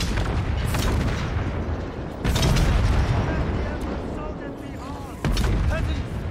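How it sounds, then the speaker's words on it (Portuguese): Cannon fire in the video game Total War: Warhammer 3, heavy booming blasts arriving in two big bursts with rumbling tails, layered with battle sounds and game voices. "Melhor barulho de canhão do Warhammer 3 é disso aqui"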